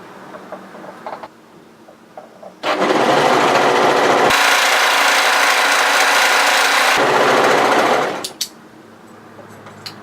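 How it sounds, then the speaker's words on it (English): An overlocker runs steadily for several seconds, its blade trimming stray threads along the raw edge of a cowl neck top's fabric. The machine whirs loud and continuous, with quieter handling sounds before and after. "Now when we use our overlocker, I'm not going to cut any fabric off, I'm just going to use the blade just to trim any stray threads on the raw edge."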